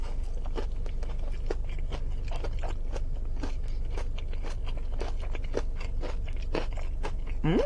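Crunchy Zaxby's chicken wings being bitten and chewed up close, a rapid run of sharp crisp crunches and wet chewing sounds repeating steadily throughout.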